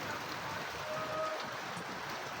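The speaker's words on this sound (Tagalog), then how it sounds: "Inabot pa ng ulan." Steady rain falls outdoors, a dense, even hiss of drops hitting surfaces that continues without a break and at constant loudness, with no talking.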